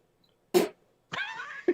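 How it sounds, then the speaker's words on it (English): Two loud, abrupt farts from a man, the first a short broadband burst and a second brief one at the end, separated by a rising whiny vocal-like tone in between. "And he'll just like fart really loud"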